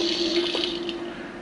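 Water runs from the faucet of a Fisher-Price toy sink in a short, steady trickle, close and fairly soft, with a faint tonal hum beneath it.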